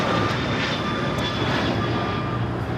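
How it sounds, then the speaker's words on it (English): Gulfstream G500 business jet taking off, a loud, close, continuous engine roar with broadband jet noise and a steady whine. "This is a Gulfstream G500 taking off to Scottsdale, Gulfstream Aerospace."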